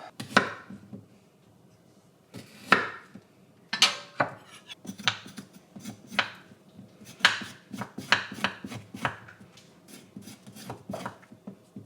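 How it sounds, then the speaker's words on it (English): A spoon scrapes the skin off a knob of fresh ginger with its ends trimmed, giving close, crisp rasping strokes in irregular bursts with short pauses, alone in a quiet kitchen. "You just use a spoon and scrape all around it."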